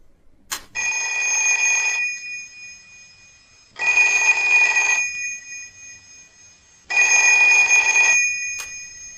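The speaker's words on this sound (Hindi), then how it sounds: "अचानक फोन की घंटी बजी।" An old-style telephone bell rings in three evenly spaced bursts, each about a second long and loud and close, separated by short silences.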